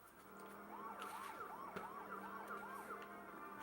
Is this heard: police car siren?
yes